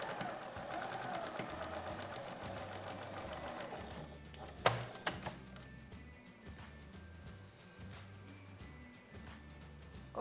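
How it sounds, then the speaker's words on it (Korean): A domestic sewing machine runs in short bursts, stitching a 1 cm seam in leftover fabric for a small card wallet's back pocket, with a steady mechanical whir that pauses and restarts, close up and with no talking. "그래서 1cm 봉제해서 이렇게 꺾어서 뒷포켓을 만들어 줄게요"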